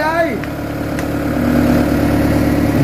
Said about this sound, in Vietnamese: Nổ máy rồi, nổ máy rồi